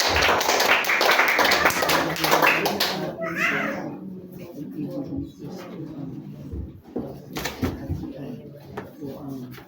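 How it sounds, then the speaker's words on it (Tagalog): A church congregation claps during a worship service, a loud, dense burst of hand clapping for about three seconds that then gives way to quieter, scattered taps and voices. "Palakpak muli sa Diyos mga kapatid"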